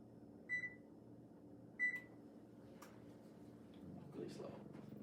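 Two short electronic beeps from a microwave-style oven control panel as it is set to preheat to 350 degrees, spaced about a second apart over a low steady room hum, with faint handling noise and a voice later on.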